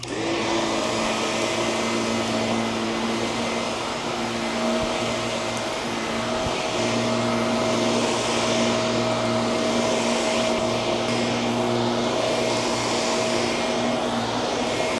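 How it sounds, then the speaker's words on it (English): An upright vacuum cleaner with a beater bar works over the back of a wool rug, a loud, continuous motor whine with steady airflow roar and brush hum, close and unbroken for the whole stretch. "The vibration and the beater bar of the vacuum will actually vibrate all the dirt and dust out of the rug."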